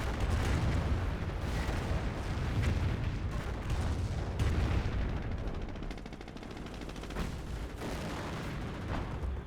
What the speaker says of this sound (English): Calliope rocket barrage running on in